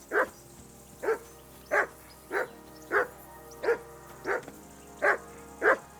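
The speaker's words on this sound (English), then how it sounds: "That barking was a pain in the ass." A dog in Kingdom Come: Deliverance II barks nine times in an even, repeated rhythm, each bark sharp and close, with quiet background ambience between them.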